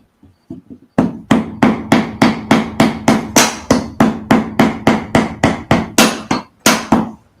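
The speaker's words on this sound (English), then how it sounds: "What I'm using here is a bit of a redneck dowel maker to make me a round dowel." A hammer drives wood through a homemade dowel maker: a few light taps, then about sixteen loud, evenly spaced blows ringing close up.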